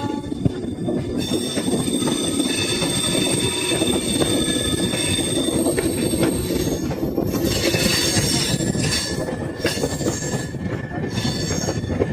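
A train rolls along a new line at Howrah station, its wheels squealing loudly and continuously over the rails with steady rumbling throughout, close and dominant with no voices.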